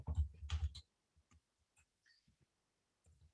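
Computer keyboard typing into a text box on a word-processor screen: a dense, fairly loud flurry of key clicks up front, then sparse, faint single taps and short clusters spread through the rest.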